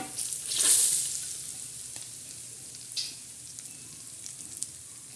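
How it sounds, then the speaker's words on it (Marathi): Hot oil poured over garlic, black pepper and cloves for a pickle masala, a sharp hissing burst at the start that fades into a faint sizzle with a few small ticks and stirs. "थोडं थोडं तेल टाकणार आहोत हे बघा प्रथम कशावर टाकायचं लसण दुसरं काळे मिरे आणि लवंग"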